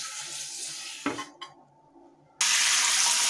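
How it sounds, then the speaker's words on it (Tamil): Water runs and splashes over a new dosa griddle being rinsed without soap, a loud steady wash, then a short clatter and pause before the rush of water resumes. "சும்மா கழுவிடுவோம், சோப்பு போடாமல் சும்மா கழுவிட்டு தோசை ஊற்றி பார்க்கலாம் வருதான்னு"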